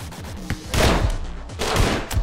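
Rapid bursts of gunfire in the video game Anger Foot, two loud clustered volleys of shots with brief gaps between them, up front and without talk.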